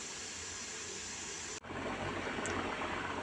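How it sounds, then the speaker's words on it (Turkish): Steady, hissing bubbling of a half-covered pot of cauliflower stew boiling on the stove, with a brief dropout midway before the low simmering rumble continues. "Yemeğim güzel güzel kaynıyor"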